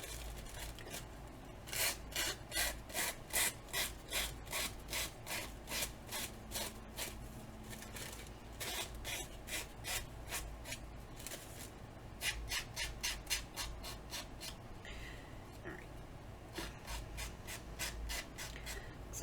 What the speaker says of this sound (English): And all I'm going to do is just file the edge.